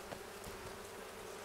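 Honey bees buzz continuously at close range, a steady droning hum with a few slightly louder passes, faint and alone without talk.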